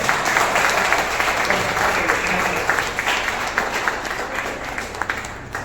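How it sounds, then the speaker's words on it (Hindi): Sustained audience applause at a Rotary library event in Ankleshwar, a dense steady roar of many hands clapping at close range that holds for several seconds and thins slightly at the end. "जोरदार तालियां हो जाए।"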